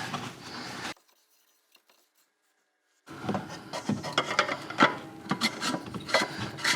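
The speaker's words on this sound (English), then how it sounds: "So we'll give this a good wipe." Rag wiping the oil filter housing of a 2020 Hyundai Palisade during an oil change, close rubbing and scuffing in two stretches separated by a quiet gap.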